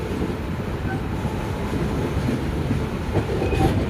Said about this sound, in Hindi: जैसे कि आप देख सकते हैं हमारी ट्रेन भी चल चुकी है